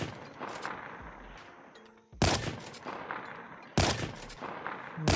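Sniper rifle gunshots in Call of Duty Mobile gameplay, two loud, sharp blasts about one and a half seconds apart, each with a short ringing tail, over quieter game ambience.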